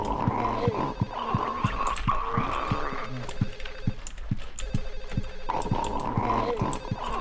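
A telephone rings repeatedly from an apartment next door in the Silent Hill 4 video game, muffled trilling bursts in a regular pattern over a low rumbling ambience, pausing briefly midway before resuming.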